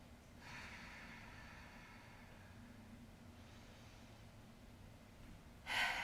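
A long, soft exhale during a yoga low lunge: a quiet breathy rush that fades, followed later by a sharper, louder breath near the end.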